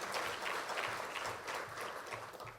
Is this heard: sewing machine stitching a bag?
no